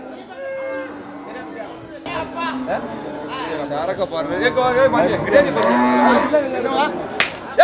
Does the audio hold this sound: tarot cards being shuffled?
no